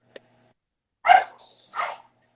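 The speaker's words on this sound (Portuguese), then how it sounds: "Meus cachorros estão tudo doidos aqui latindo" Household dogs bark twice in quick succession, nearby and sharp, after a faint click, with quiet in between and no talking.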